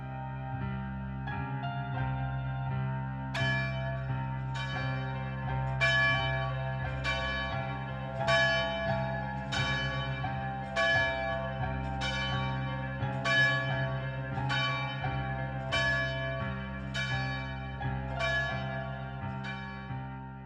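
A church bell tolls steadily, about a dozen evenly spaced ringing strikes over a sustained, humming bell tone, fairly loud with no voices.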